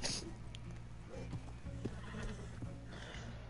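A horse whinnies amid clopping hooves and other sound effects in Red Dead Redemption 2 Online, moderately quiet and busy throughout.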